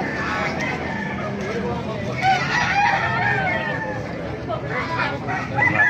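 A Talisay rooster crows at a busy tyangge market in Baliuag, its call rising over clucking fowl, crowd noise and nearby talk.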